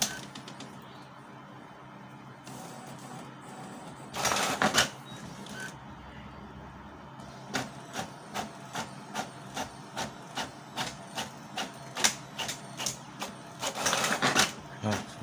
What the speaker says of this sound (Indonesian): kita tes buat print ketikan atau teks 5 lembar